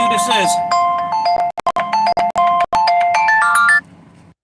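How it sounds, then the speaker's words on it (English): A phone ringtone plays loudly as an incoming call arrives, a bright repeating melody that cuts out in several short bursts before resuming and stopping, with a low rumble underneath. "Oh, I got a phone call coming in."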